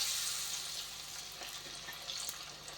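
Cauliflower vada batter frying in hot oil, a steady soft sizzle with light crackles throughout and no talk.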